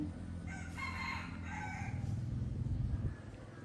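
Backyard chickens with a rooster crowing at a Vietnamese rural home, a harmonic crow standing out around the first two seconds over a steady low hum and farmyard clucking, moderately close, with no talk.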